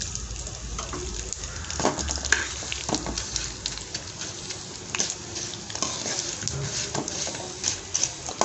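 Coriander seeds dry-roasting in a pan on a gas stove, with a steady crackling patter and scattered sharp ticks as the seeds shift and are stirred, close and continuous.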